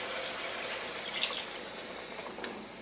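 Water poured into a pot of squid cooking in its own juices, a steady soft rushing splash at low level with a few faint drips, no voices.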